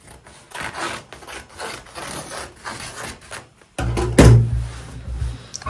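Side and back seams of a loose-fit pair of trousers being unpicked by hand with soft rubbing strokes, ending in a louder, closer, rasping tear.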